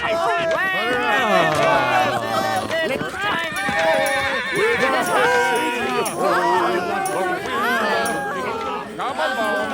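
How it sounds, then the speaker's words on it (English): A horse whinnies loudly in a radio play of The Taming of the Shrew, with a rising and falling neigh, trotting hoofbeats and busy crowd chatter layered over one another. "A horse!"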